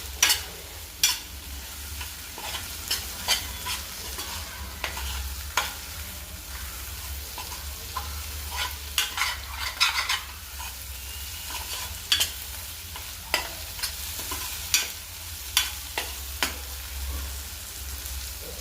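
Tomato egg curry being stirred in a pan, a low constant sizzle under repeated sharp scrapes and knocks of a spoon against the pan at an uneven rhythm.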